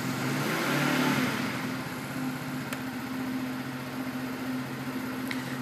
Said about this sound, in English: I'm going to give that a rev so you can hear the engine.